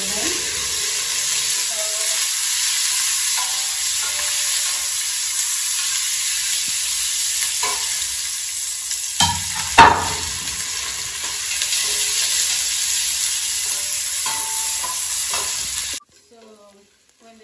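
Sausages and onion sizzle loudly and continuously in a pan, with stirring scrapes and a clatter near the middle, before the frying sound cuts off abruptly at the end.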